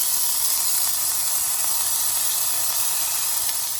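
Eight green chillies hit hot oil, giving a steady, bright hiss and sizzle that holds at an even level without a break; no voices over it.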